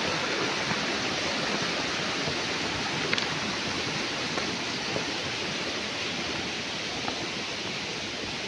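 Rushing water of the Tancak Tulis waterfall in Jember, a constant dense roar of falling water, loud and unbroken with no voices.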